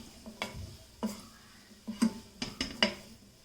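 Frozen green peas and vegetables are sautéed in a pan over raised flame, heard as a handful of scattered spoon scrapes and clinks against the pan over a faint sizzle, with no talking.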